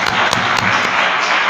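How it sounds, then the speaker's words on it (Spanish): A conference audience gives welcoming applause for a guest speaker, brief and fairly loud, dense clapping filling the whole moment. "Quiero que le demos un aplauso de bienvenida a Manuel"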